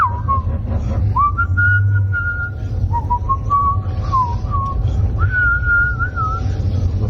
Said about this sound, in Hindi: बेफिक्र सीटी बजाते हुए, गाना गुनगुनाते हुए